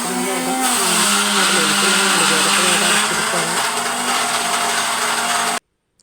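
A kitchen mixer grinder whirs loudly and steadily as it grinds coconut paste for a roasted-coconut chickpea curry, running continuously for several seconds before cutting off abruptly.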